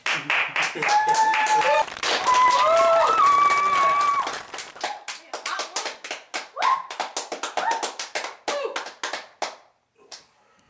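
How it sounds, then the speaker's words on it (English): Audience clapping in a talk-show studio setting, quick sharp claps at first under talk and shouts, then thinning into separate scattered claps that taper off toward the end. "Clap."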